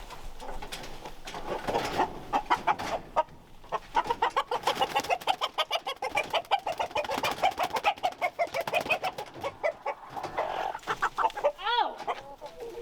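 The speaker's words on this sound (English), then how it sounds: "I caught a rooster." Pasture-raised chickens and a rooster cluck in rapid repeated bursts at close range, with a brief squawk near the end and no talking.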